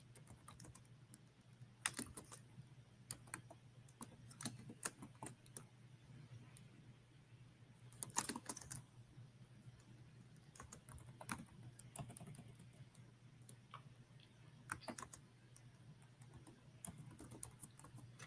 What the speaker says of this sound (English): So you just type the responses in that people can choose from.